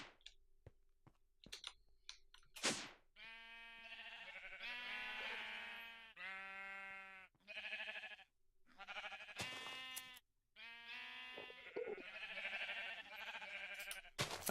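Video-game sheep give a run of wavering bleats, several overlapping calls with brief gaps between them, close and distinct, along with a few sharp clicks and no voices.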